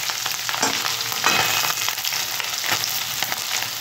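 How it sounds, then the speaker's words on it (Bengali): Small mourola fish fry in hot oil in a pan, giving a continuous bright sizzle and crackle with occasional stirring scrapes throughout. "এক সাইড ভাজা হয়ে গেছে, আর এক সাইড আমি এইভাবে এক সাইড ভেজে নেব"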